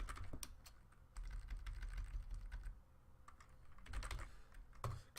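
Someone types on a computer keyboard while working through a Unity coding session, producing quiet, rapid clusters of key clicks with short pauses between bursts, close and continuous.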